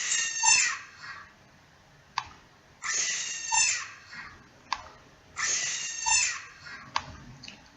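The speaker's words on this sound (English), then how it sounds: "the first sound is that of a monkey scream" A played recording of a monkey screaming gives three loud, shrill, harsh screams, evenly spaced, each followed by a short sharp click and a pause.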